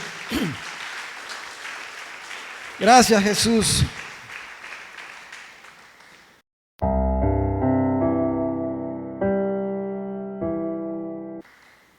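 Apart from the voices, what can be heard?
church congregation applause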